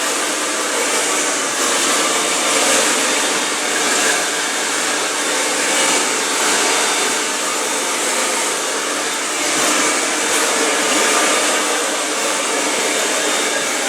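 A handheld blow dryer drying short hair during a barbershop haircut runs steadily for the whole stretch, a loud continuous airy roar that swells and dips slightly as the nozzle moves around the head.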